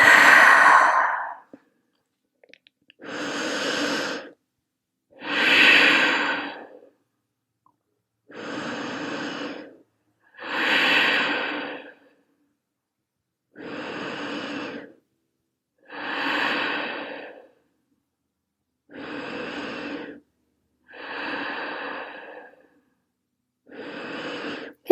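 Slow, deep yoga breathing from a person in a forehead-to-floor resting pose: about ten loud, close breaths, each a long airy exhale or sigh with brief pauses between, and no talking.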